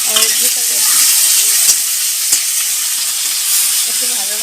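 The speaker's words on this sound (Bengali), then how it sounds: "পেঁয়াজকে ভাজা ভাজা হোক" Chopped onion and garlic frying in oil in a pan: loud, continuous sizzling hiss with scattered crackles and occasional stirring scrapes, close up and without talk.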